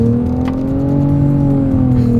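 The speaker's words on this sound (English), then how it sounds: "I will say the engine sound was kind of cool" A 2024 Nissan Rogue SUV with a CVT accelerates in simulated manual shift mode, its engine droning steadily with a smoothly rising tone heard from inside the cabin, close and loud.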